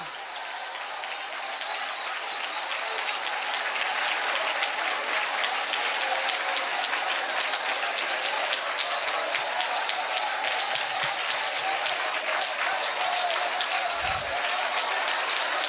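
A church congregation claps hands loudly and steadily during a fervent Telugu worship service, a dense continuous roar of applause that swells in the first seconds and holds without a break.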